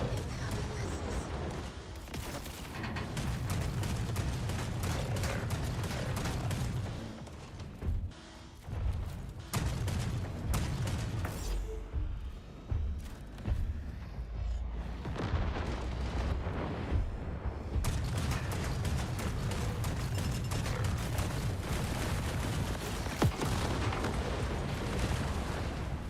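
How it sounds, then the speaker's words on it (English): Incoming missiles explode over and over in a mech video game, a dense loud barrage of booms and crackling blasts lasting throughout, with a voice talking over parts of it. "Incoming missiles. Incoming missiles."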